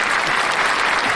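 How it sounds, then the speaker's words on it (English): Dense, steady audience applause for a guest on a talk show, a loud continuous wash of many hands clapping close by with no gaps. "Round of applause for Ty Boogie."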